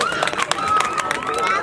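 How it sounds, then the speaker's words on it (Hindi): A crowd claps loudly at a youth club gathering honouring players and soldiers, brisk overlapping hand claps with a busy babble of voices and talk layered over them. "ताली बजा भाई जोरदार"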